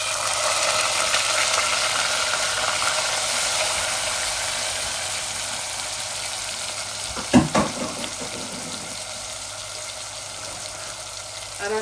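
Onions hit hot oil in a pan with dry spices, giving a steady broad sizzle, then a brief clatter of stirring utensils partway through before the frying hiss settles back in.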